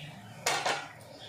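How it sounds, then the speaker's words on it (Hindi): A steel bowl is rinsed and water is poured into a pressure cooker in a home kitchen during shami kabab preparation, giving two short close clattering, splashing bursts of metal cookware over quiet background. "ये देखो वाटी धो के मैं थोड़ा सा पानी डाल रही हूँ"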